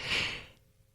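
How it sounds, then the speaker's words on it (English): One heavy, breathy exhale after a set of push-ups, close and short, then fading into quiet. "Yeah, that's what it sounds like when a geek works out. Heavy breathing."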